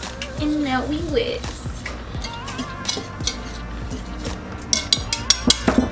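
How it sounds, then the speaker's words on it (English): A whisk stirs dry cookie ingredients with old-fashioned oats in a bowl, making quick, irregular ticking and scraping clicks against the sides that grow sharper toward the end, with voices in the background. "And now we whisk"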